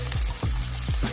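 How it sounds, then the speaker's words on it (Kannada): Chopped onions hit a hot pan with capsicum and curry leaves for masala Maggi, making a brief, close, steady hiss of frying with a few soft low knocks. "ಈಗ ಉಳ್ಳಾಗಡ್ಡಿ ಹಾಕೋತೀನಿ ರೀ."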